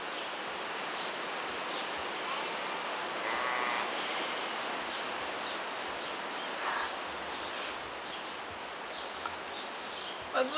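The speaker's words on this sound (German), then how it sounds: "Was für ein Wind, ey." Strong wind blows outdoors as a steady, broad rushing roar at moderate level, with slight gusts swelling and fading throughout.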